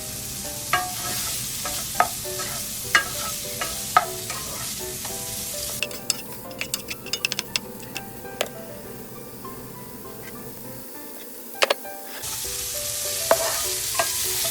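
Protein frying in a pan for a noodle stir fry, a continuous sizzle punctuated by scraping stirs and clacks of a utensil, with a brief quieter stretch midway before the sizzle returns.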